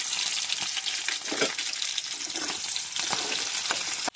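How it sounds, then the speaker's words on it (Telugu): Green chillies and garlic fry in hot oil with a dense, bright crackling sizzle that runs steadily throughout, with a few soft stirring knocks and a small clink at the end; no talking. "ఆయిల్ హీట్ అయిపోయిన తర్వాత మనం ఆల్రెడీ ముందుగా కట్ చేసి పెట్టుకున్న పచ్చిమిరకాయలు అనేవి యాడ్ చేసుకోవాలి"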